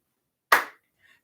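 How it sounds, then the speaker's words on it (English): A single sharp hand clap during a seated exercise class, close and crisp in an otherwise quiet room, followed by a very faint tap. "Clap, clap, clap, clap, and clap."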